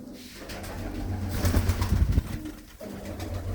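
Large blue-footed pigeons, males and females mixed, coo softly in a coop, a low throaty murmur over faint background noise with a slightly louder stretch midway.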